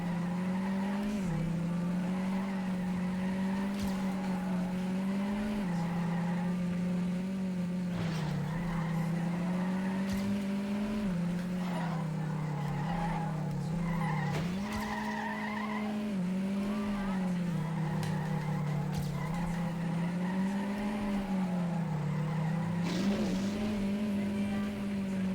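Race cars in a racing video game on a coastal track, a continuous droning engine whine that rises and falls with gear changes, mixed with tire squeal and skidding throughout at a steady level, with no talk.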